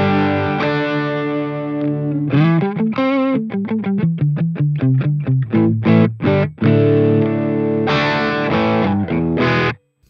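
Electric guitar with mild overdrive through a Bogner amp setting into a Bogner 4x12 cabinet on a Sonicake Matribox 2, sustained chords followed by rhythmic picked notes and stabs, loud and upfront with no talking.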